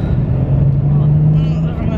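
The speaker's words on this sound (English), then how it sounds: "There's a car coming down." A car approaches on a narrow single-track road near Dunster Castle, its engine hum rising steadily and close, with a voice talking over it.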